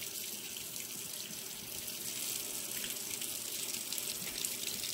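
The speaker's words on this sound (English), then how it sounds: "He's just going to wash this one off with some cool water." Cool tap water runs steadily into a sink as a duck-care item is rinsed off, a continuous hissing splash lasting throughout with no talking.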